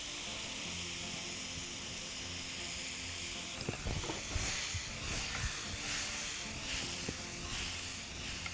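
Marinated spicy prawns sizzling in olive oil in a pan, a steady close hiss of frying with sputtering pops and occasional clinks of utensils.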